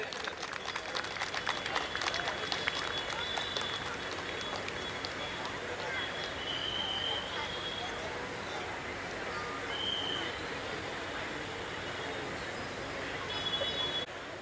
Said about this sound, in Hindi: जोरदार तालियों के साथ सर का अभिनंदन करें, वंदन करें।